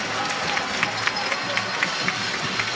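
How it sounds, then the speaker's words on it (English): Fans at a Ghana vs. Egypt women's football qualifier applaud a long shot, a bright wash of crowd clapping with light cheering running for a few seconds in the stadium. "And she get that applaud from the fans."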